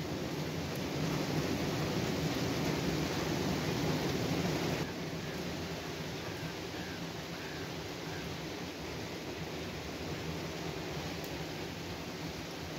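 Heavy rain pours down steadily in a dense, continuous hiss during a thunderstorm at a wetland, loud and unbroken throughout with no voices.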